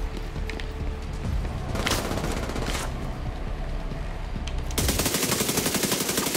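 Heavy combat in The Division 2 Warlords of New York, with an explosion behind an enemy: rapid automatic gunfire and booms over a dense, loud battle noise, ending in a sustained rattling burst of fire.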